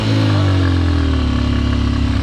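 A motorbike on a Saturday ride roars loudly and close by with a steady engine drone whose pitch sinks slightly as it moves past, heard alone without voices.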